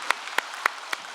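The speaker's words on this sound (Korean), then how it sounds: "박수로." Four separate, evenly spaced hand claps ring out in a quiet church during a Sunday worship service, distinct and fairly close.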